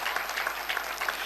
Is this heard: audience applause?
yes